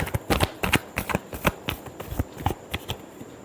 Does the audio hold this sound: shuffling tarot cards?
yes